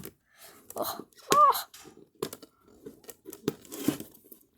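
Short bursts of tape ripping off cardboard, several quick tears with crinkling in between, close to the mic, with laughter and murmured talk around them.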